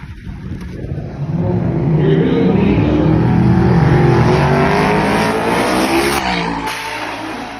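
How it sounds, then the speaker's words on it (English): A 2019 Chevrolet Camaro ZL1 built for about 2,000 hp and a 1,500 hp Audi R8 in a roll race, engines swelling into a loud, building roar as they accelerate hard past, then fading slightly toward the end. "That was one of the best roll races I've ever had."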